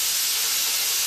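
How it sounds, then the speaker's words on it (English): Steady, loud hiss of air from a large workshop air compressor at full charge, a continuous close rush with no break. "The compressor's fully charged."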